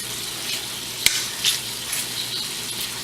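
Bacon frying in a pan on medium heat, a steady crackling sizzle with scattered pops, one sharp spatter near the middle, heard alone without talk.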